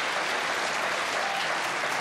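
A studio audience on a Johnny Carson talk show claps in a dense, even wash of applause that stays loud and close throughout, with no voices over it.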